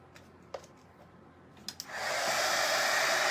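A hair dryer switches on and blows steadily at close range while a decoupage napkin is rolled tightly and dried, preceded by a few faint handling clicks.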